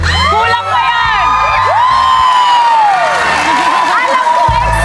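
A studio audience of supporters of a rising P-pop group cheers, whoops and shouts loudly and continuously in a bright, dense roar of excited voices, with a host's voice and music in the background.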